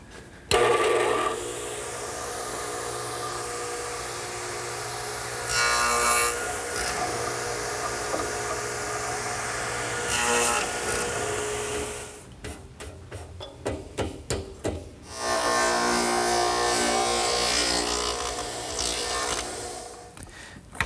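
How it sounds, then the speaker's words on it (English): Radial arm saw with a stacked dado head cutting lap joints in wood, a loud sustained roaring whine through repeated passes, broken midway by rapid choppy cutting pulses before the steady roar returns, no speech. "the best way to remove the material to make the lap joint is to use the radial arm saw, which is set up with the stacked dado head cutter"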